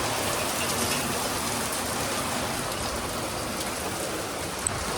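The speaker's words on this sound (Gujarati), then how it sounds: "વરસાદ આવે છે બહુ જ" Heavy rain pours down steadily outside a home, a dense, continuous hiss of drops hitting surfaces with no pause.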